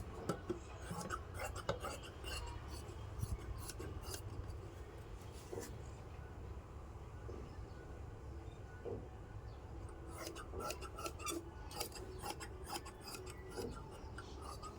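Scissors cutting blouse cloth laid out crosswise from a saree, a soft rasping snip and slide repeating in quiet bursts, close and faint.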